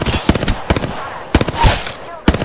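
Gunfire in a battle-royale video game, loud bursts of rapid automatic shots in several clusters, close and punchy, with no talk.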